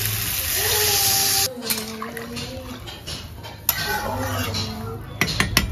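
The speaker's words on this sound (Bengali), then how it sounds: "এখন জল দিয়ে দেবো।" Water pours into a pan of vegetable curry with cabbage, soybean and egg in a home kitchen, a rushing splash up front followed by clinks of utensils and pan, close by, with quiet talk at times.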